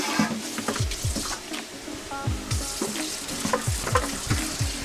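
Noodles sear and sizzle in a hot wok for spicy chow mein, a steady loud frying hiss broken by repeated scraping stir strokes and metallic clinks, close and continuous with no talk.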